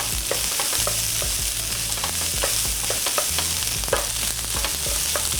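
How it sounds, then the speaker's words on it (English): Garlic and tomato paste sizzle in a hot pan for pork shank osso buco, with frequent stirring and utensil scrapes over a continuous, close frying hiss. "When you got that garlic and tomato paste in there, make sure you're stirring it frequently"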